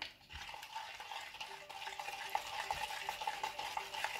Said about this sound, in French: Je viens verser ma préparation dans mon bol